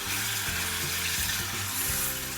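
Beef pieces for an Anglo-Indian pepper fry sizzle steadily in a hot pan, a continuous close bright hiss with a few soft stirring knocks and no voices.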